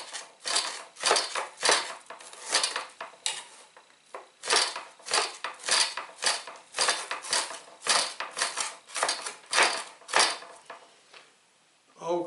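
A chef's knife chops through food on a board in a cutting contest, a close, crisp series of regular sharp knocks in quick bursts with short pauses between runs.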